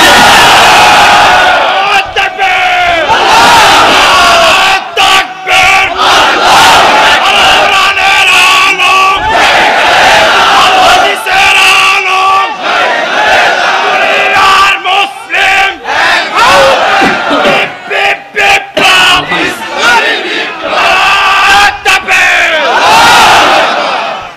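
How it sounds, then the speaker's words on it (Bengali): A large crowd at a Bengali Islamic religious gathering chants the takbir, Allahu Akbar, in loud, repeated roaring call-and-response waves that fill the space almost without pause. "দেখি লিল্লাহি তাকবীর"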